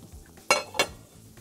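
A utensil stirring green onion, coriander and parsley in a metal pan, two quick close clinks over a quiet background.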